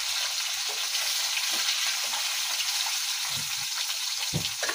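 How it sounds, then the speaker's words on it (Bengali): Fish spatters and sizzles in hot oil in a pan, a steady broadband frying hiss throughout with scattered louder pops and crackles, close and without talk. "ওই মাছটা ভাজতে গিয়ে বড্ড ফাটে"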